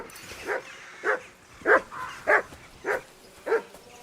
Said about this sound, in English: Good dog, Matt.